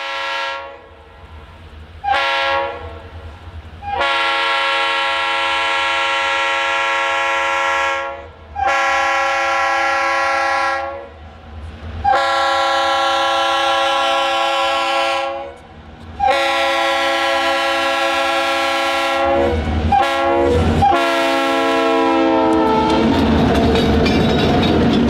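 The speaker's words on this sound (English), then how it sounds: "Montrose would be the last location we caught train L781 before the shadows overtook the main line." Georgia Central train L781 led by EMD Geep locomotives rolls past at Montrose on the main line, its horn sounding in several loud sustained blasts over steady engine rumble and wheel noise, with no talk.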